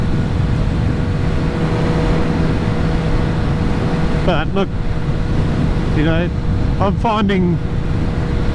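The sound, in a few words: Kawasaki ZH2 motorcycle engine revving high while riding in wind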